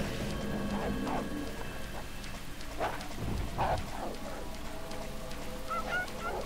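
Steady rain falls in a weird part of town in the video game Deadly Premonition, a constant hiss under honking, goose-like calls scattered through.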